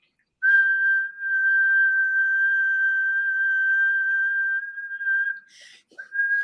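A person whistles one long steady note, clear and close, holding it for about five seconds before a brief break and then a short resumption of the same tone.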